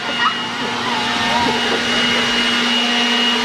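A Milwaukee leaf blower runs close by with a loud, steady, whining rush of air that holds unbroken from start to finish.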